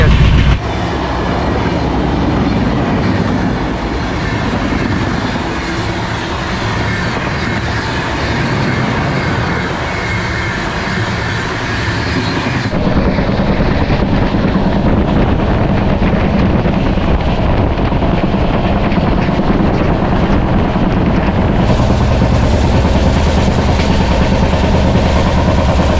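Steady loud rumble and rattle of a train running on rails, heard from inside a sleeper coach, with constant wind-like noise throughout and a shift in tone partway through.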